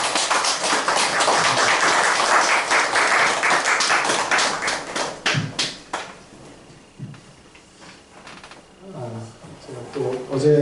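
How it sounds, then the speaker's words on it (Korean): Warm applause from a church revival congregation welcoming the pastor to the pulpit, dense clapping filling the first five seconds before thinning into scattered claps and low murmuring. "우리 나오실 때 한번 따뜻한 박수로 환영할까요?"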